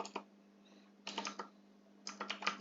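Close, clicky typing on a computer keyboard, arriving in three short bursts of rapid keystrokes separated by brief pauses.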